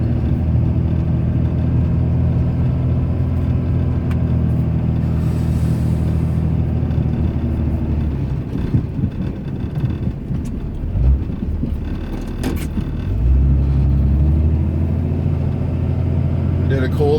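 Inside the cab of a Cummins-powered Ram truck plowing through more than 25 cm of light snow, a steady loud engine drone and road rumble run throughout, with a scraping surge near the end and someone talking over it.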